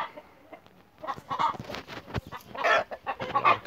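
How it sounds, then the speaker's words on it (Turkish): Several chickens cluck and chatter in uneven bursts close by, with short busy calls overlapping; no one speaks. "şöyle göstereyim tavuklarımızı"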